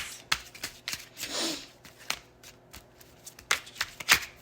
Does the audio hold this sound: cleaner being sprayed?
no